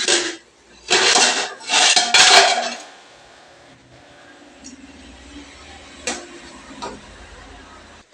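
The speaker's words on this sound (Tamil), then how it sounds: "வாங்க ஃப்ரெண்ட்ஸ் மூடி எடுத்து கிண்டலாம்." Noodles boiling in a pot on a home stove: a few loud clattering bursts as the lid comes off and metal scrapes the pot, then quieter stirring clinks over a soft bubbling hiss.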